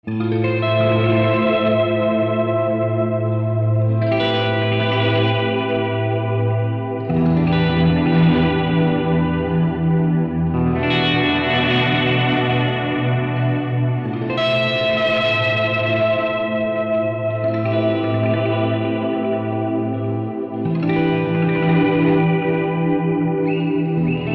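Electric guitar rings out in long, washed chords drenched in reverb and echo, each swelling and blending into the next at a steady, moderate volume.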